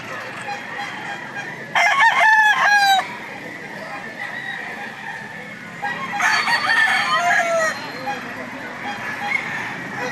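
Gamefowl roosters at a cockfighting-bird market in Lipa, Batangas crow loudly in two separate bursts with clucking in between, as people talk in the background.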